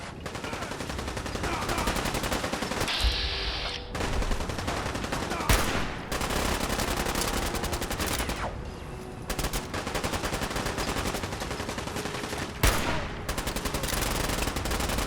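Dense, sustained gunfire from Fallout 4 survival-mode combat against a legendary enemy, firing in rapid bursts almost continuously, loud and close, broken by a few short gaps and sharp louder shots.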